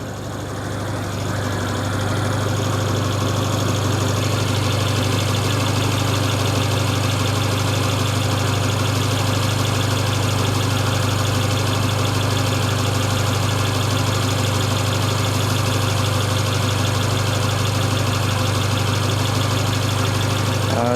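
A Mercedes-Benz A45 AMG 4MATIC with about ten thousand kilometres on it idles steadily, a close, even low hum that holds without revving for the whole stretch, with no voices.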